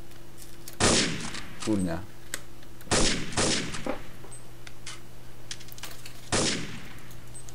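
Gunfire in the video game Counter-Strike 1.6 on a surf map, three or four sharp, loud single shots spaced over several seconds above a steady game hum, with a brief exclamation from a player.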